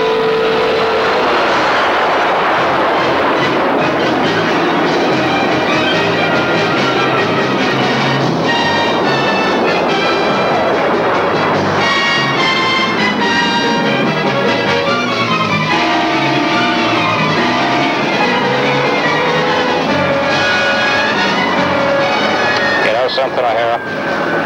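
A military aircraft makes a low strafing pass over a runway, a loud sustained engine roar with shifting tonal whine that builds and holds throughout, close and dominant.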